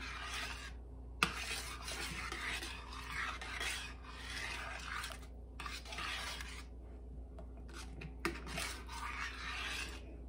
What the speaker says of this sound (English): And stir that in really well.